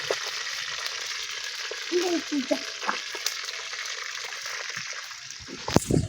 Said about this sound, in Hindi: फिर हमने पूरा मसाला जो लगा हुआ है तो उसको हम अभी बना रहे हैं, ऑयल में फ्राई कर रहे हैं।